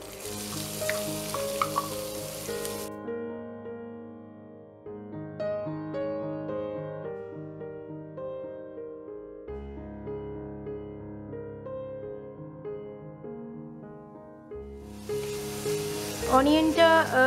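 Grated onion with bay leaf and cumin seeds frying in a pan, a soft sizzle heard near the start and end, with a stretch of background music in between.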